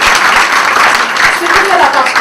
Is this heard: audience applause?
yes